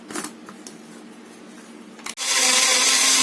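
Electric blender grinding banana and milk into a milkshake, with a quieter rubbing, scraping stretch that gives way to a loud, steady high-pitched whir of the motor running close up.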